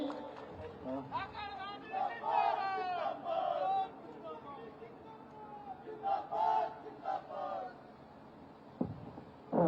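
A large crowd at a university student union inauguration ceremony in Srinagar Garhwal cheers and shouts in loud, overlapping bursts to welcome the chief minister, rising and falling for about ten seconds.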